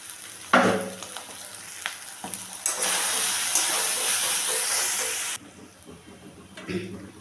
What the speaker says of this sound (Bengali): দিয়ে আবার আমি এটাকে কষাতে থাকব সেই সাথে কয়েক দানা চিনিও আমি দিয়ে দিলাম